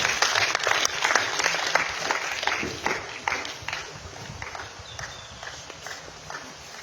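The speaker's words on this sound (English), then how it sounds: "if you are clapping, you can do better, please" Audience clapping at an award ceremony, a lively burst of dense hand claps that gradually thins and softens over several seconds, heard at moderate distance with a little crowd murmur.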